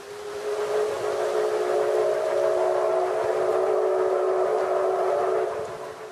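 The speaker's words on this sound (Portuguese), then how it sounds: "O trem está chegando." An arriving train sounds its whistle in one long, loud, steady blast lasting several seconds, heard alone without talk before it trails off.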